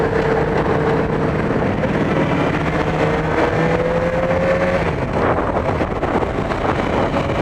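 A Yamaha FJ-6R 600 motorcycle engine pulls up through the revs while riding, with a rising tone, a gear change and more climbing. Steady wind noise runs underneath throughout.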